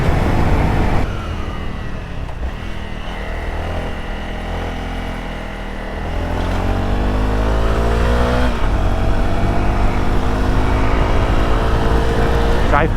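Motorcycle engine working hard up a steep climb, a loud steady drone under heavy wind rush with rising pitch sweeps as it revs through gears.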